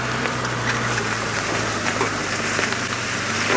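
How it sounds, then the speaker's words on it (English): Rain on a safari drive, falling steadily and heavily with dense pattering and hiss on surfaces, a low engine-like hum underneath, no talking. "the rain is starting to come back. It's starting to get heavier again"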